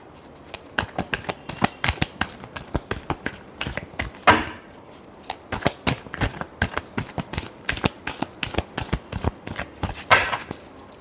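Tarot cards being shuffled by hand, a rapid run of crisp riffling clicks and slaps close up, with two longer riffle bursts breaking the steady rhythm.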